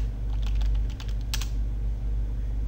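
Rapid bursts of keystrokes on a computer keyboard while entering a command into the Counter-Strike: Source console, fairly close and soft over a steady background hum.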